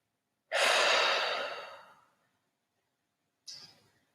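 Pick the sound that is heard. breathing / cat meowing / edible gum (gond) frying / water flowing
breathing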